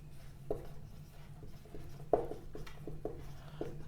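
Pen or marker scratching on a board or paper in short strokes and taps while ordered pairs are written out, fairly close with a steady low hum underneath and no talking.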